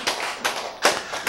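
Congregation at a Korean church sermon claps in brief bursts, several short rounds of hand clapping in quick succession, close and fairly loud, with no talking over it.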